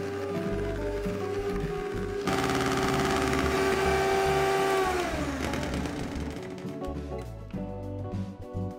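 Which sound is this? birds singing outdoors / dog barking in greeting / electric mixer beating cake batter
electric mixer beating cake batter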